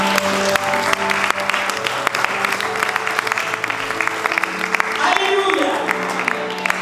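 A congregation applauds and cheers steadily throughout a Protestant evangelical church service, a dense and loud wash of clapping with voices mixed in.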